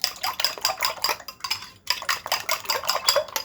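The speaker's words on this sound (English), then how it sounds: "All right, I'm going to mix this up." Sausage, egg and biscuit bake ingredients are stirred in a bowl, a spoon scraping and clinking against the sides in quick, steady strokes with a short pause midway.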